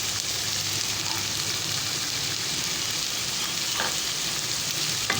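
Chicken and carrots sizzle and fry steadily in a pan as spices go in, a dense continuous crackle close up with faint stirring scrapes and no talk.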